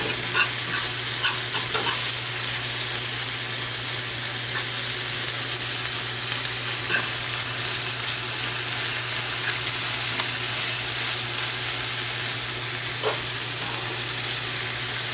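Philly cheesesteak meat cooking on a flat griddle, a dense, continuous close sizzle and hiss holding steady throughout with a faint low hum beneath and occasional light ticks, no voices.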